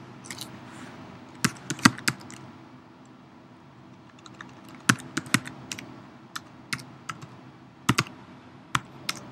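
A password is tapped out on a computer keyboard to log in to a Moodle site: crisp, close keystrokes arriving in irregular clusters with short pauses between them, with no talking.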